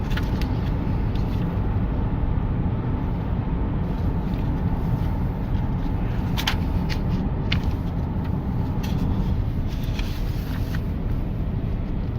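Road traffic rumbles continuously as cars pass, a steady broadband drone of engines and tyres with a few brief louder sweeps of nearby vehicles, and no one talking.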